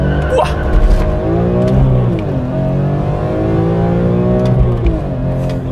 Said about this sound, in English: what I'm going to do now is let those cars pass by and we're gonna accelerate from 0.